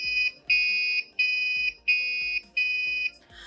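Buzzer on a coding module playing police-siren-like notes, four clear sustained electronic tones repeating in an even rhythm, each cut by a short gap, close and alone with a soft knock at the end.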